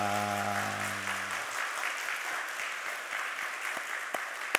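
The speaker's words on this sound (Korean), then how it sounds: "마음 담고 잘했다고 감사하다고 박수 한번 하도록 하겠습니다" Churchgoers at a Sunday service clap together for graduates of a discipleship course, a steady round of applause. Held keyboard chords fade out early, and a few sharper claps stand out near the end.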